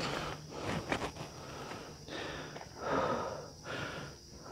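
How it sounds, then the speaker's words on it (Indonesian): Heavy, labored panting from someone hiking uphill on the slopes of Merapi, close to the mic: a steady run of rough breaths and gasps, some snorting, with faint footsteps. "ngos-ngosan berat"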